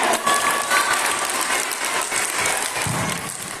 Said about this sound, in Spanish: Un forte aplauso para ela.